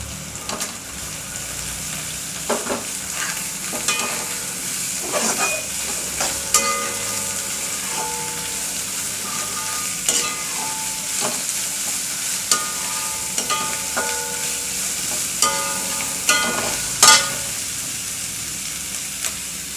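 Cabbage with garlic stir-fried in a pan for vegetable fried rice gives a steady sizzle and hiss, with occasional scrapes and clinks of the spatula for about twenty seconds and no voices.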